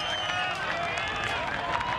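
Roaring crowd cheering on a racer at the women's cross-country mountain bike World Cup final at Mont Sainte Anne, a dense continuous wall of shouts and whistles close by, with a commentator talking over it.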